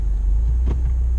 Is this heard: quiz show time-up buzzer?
no